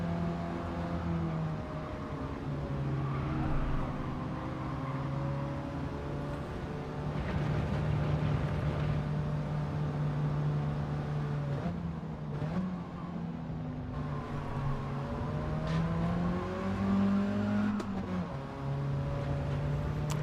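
Racing car engines drone and rev during a video game race, a continuous whining roar with pitch rising and dipping as the cars shift and accelerate, steady and loud throughout.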